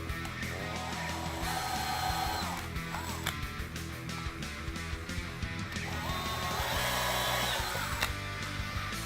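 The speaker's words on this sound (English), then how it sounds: "Then I'm going to run my drill bit" A power drill whirs steadily up close, its motor pitch rising and falling as it bores screw holes into a wooden bass guitar neck, with scraping and clunks between runs.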